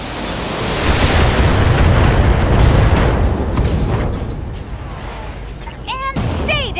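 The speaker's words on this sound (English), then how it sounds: "ammo explosion" A loud, sustained blast of rumbling explosion noise fills most of the passage, an ammunition explosion on a mech in the BattleTech video game, fading into quieter battle noise with brief chirping effects near the end.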